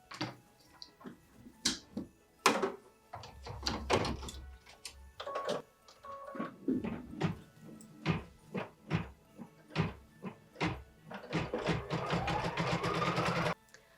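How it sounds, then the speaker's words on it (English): A computerized embroidery machine stitches a tack-down line on felt, giving a steady run of sharp mechanical ticks and clicks, some louder than others, with a denser buzzing patter toward the end and no talking. "Then we get to return it to the machine for machine step 3, which is the tack down line."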